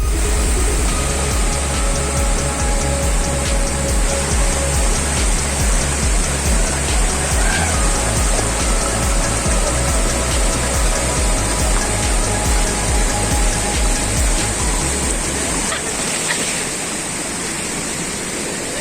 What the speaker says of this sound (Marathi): अशा प्रकारे आता आपण हा पाण्याचा फ्लो आपण क्रॉस केलाय